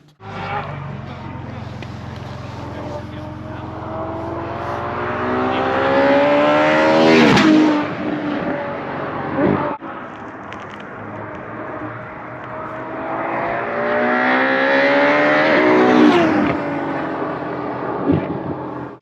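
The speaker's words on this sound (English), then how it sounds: "now you will hear a flyby on the racetrack" A Ferrari F12 Berlinetta V12 screams past on a racetrack twice, each loud flyby climbing in pitch as it nears, then dropping away as it recedes.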